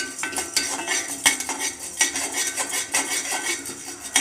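Chana dal roasting lightly in a pan while a metal spoon stirs it, giving repeated close clinks and scrapes against the pan over a faint background sizzle, no one talking.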